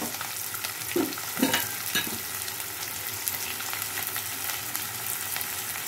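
Sliced onions frying in hot oil give a steady, close sizzle, with a few soft stirring knocks early on and no talking.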